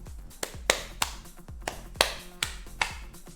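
Sharp hand claps, about eight of them at an uneven pace, close and crisp with short decays and no voices.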